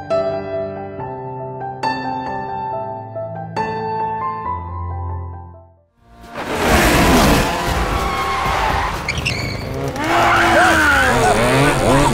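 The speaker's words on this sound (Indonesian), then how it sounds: "Henry lalu membawanya ke sirkuit go-kart, di mana tanpa Denan sadari, Henry juga mengundang ayahnya dan mereka berdua pun adu balap" Go-kart racing on a circuit: after a few piano notes, loud engine roar bursts in with screeching tire squeals and skids, rising and falling as the karts push through corners.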